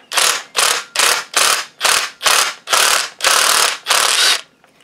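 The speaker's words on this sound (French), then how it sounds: "j'y vais à la visseuse à choc parce que j'ai peur que la tête de vis foire" An impact driver loosens the screws on a Mikuni carburettor from a Yamaha YFM 350 Raptor quad, firing about nine loud, close hammering bursts in a steady rhythm, each lasting under half a second and the last few running slightly longer.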